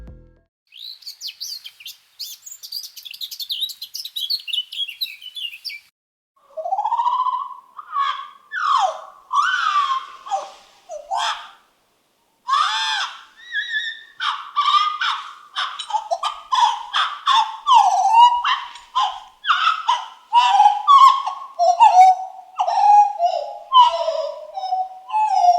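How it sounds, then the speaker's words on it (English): Eurasian blackcap song slowed and pitched down two octaves becomes a long series of clear, sliding whistled phrases and warbles, loud and close, with short gaps between phrases. "a recording I made of a Eurasian blackcap, and when we pitch it down 2 octaves, it really reveals some fascinating details"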